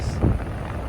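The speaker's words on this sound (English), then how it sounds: "it's really windy and cold" Brief, low rumbling gusts of strong, cold wind buffeting the microphone beside a 2007 Toyota FJ Cruiser, loud and close.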